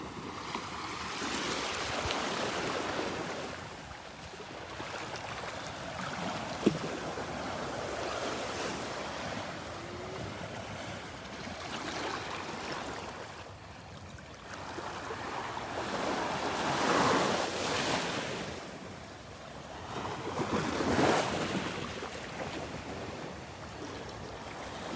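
Small ocean waves washing onto a Gulf beach at Delnor-Wiggins under an offshore breeze, with a continuous broad surf wash that swells and recedes in slow surges and steady wind noise.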